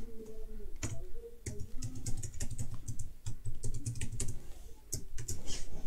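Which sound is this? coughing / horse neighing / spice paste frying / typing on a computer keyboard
typing on a computer keyboard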